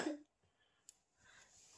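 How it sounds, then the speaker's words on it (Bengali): A child coughs at the start, a short close cough followed by quiet breathing and a faint rustle before a second cough begins at the end. "কাশিটা আসলে এখনো কমছে না।"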